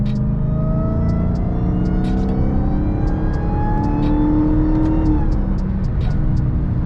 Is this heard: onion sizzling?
no